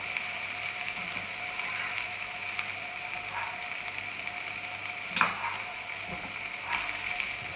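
Broccolini sizzles quietly in a pan on the stove while a utensil stirs it now and then. A few scrapes and clicks stand out over the soft, steady frying.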